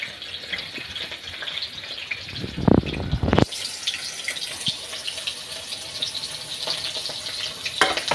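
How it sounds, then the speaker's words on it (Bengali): Potatoes frying in hot oil in a wok, a steady close sizzle throughout with a couple of louder clattering stirs or scrapes near the middle. "কড়াইতে তেল দেওয়া হয়েছে"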